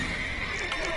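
A horse whinnies briefly in Witcher 3, a short close neigh over a busy background of game ambience.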